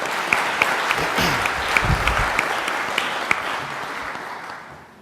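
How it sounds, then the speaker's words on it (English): Sustained audience applause at a university Three Minute Thesis competition, dense even clapping from a room of people with a few sharp nearby claps, tapering off at the end. "Another round of applause"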